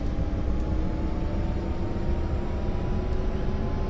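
Bell 407 helicopter engine in the X-Plane 11 flight simulator, running with throttle raised to about 25 percent: a steady, loud turbine drone with an even whine, continuous and unbroken throughout.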